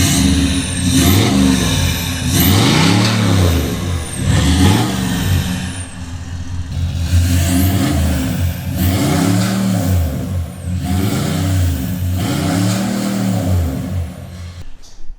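A deep, throaty Range Rover 4.4 TDV8 diesel, remapped with catalytic converter and DPF removed, revs repeatedly, each blip rising and falling in a loud rhythmic burble, close and unmuffled.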